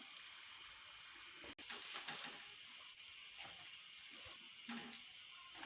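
Samosa rolls fry in hot oil with a dense, steady hiss and crackle close by, broken once by a sharp clatter, with no one speaking.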